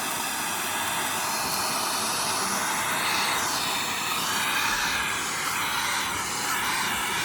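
A Shark VerityLux vacuum cleaner running in a steady, loud, high-pitched whine with a whooshing airflow roar, continuous throughout, with no talk.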